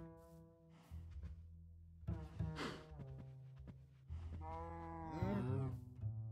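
Minecraft cows give several drawn-out, low wavering moos in sequence, separated by short pauses, the last call loudest, set on a hardcore survival farm with no talking over them.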